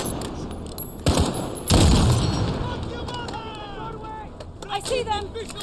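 Gunfire in Call of Duty Modern Warfare 2019, an invasion of Urzikstan campaign mission: two heavy booming shots followed by rolling battlefield noise, with chirping electronic sounds and a voice talking underneath.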